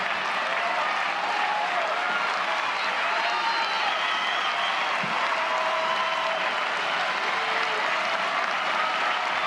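A large crowd of over 4,500 at a college softball game cheers and applauds steadily for a final out in the 7th inning, a dense, continuous roar with no clear talk over it.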